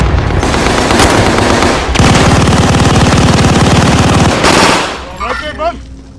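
Heavy, sustained video-game gunfire with rapid automatic machine-gun bursts, loud and dense for several seconds, then tailing off into scattered shots and faint voices.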